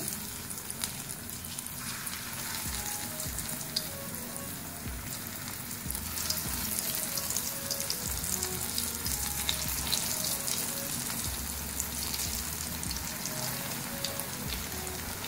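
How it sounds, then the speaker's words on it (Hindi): Vegetable kebabs frying in hot oil, a dense, steady crackling sizzle like rain on a surface that runs on without a break, close and even, with no one speaking. "ऑयल हमारा गर्म हो चुका है। एक एक करके कबाब शामिल करते जाएंगे।"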